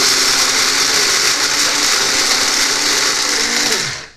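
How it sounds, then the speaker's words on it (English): An electric coffee grinder whirs loudly as it pulverizes whole spices into powder, a steady close-up motor drone that runs continuously before spinning down at the end. "Now to take coffee grinder and grind it all up."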